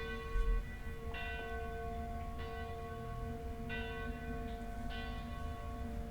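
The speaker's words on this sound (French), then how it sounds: "Il y a beaucoup de sons, de cloches." Church bells ring in a slow, regular series of resonant strikes, each leaving a long humming decay, heard from a distance over steady background noise.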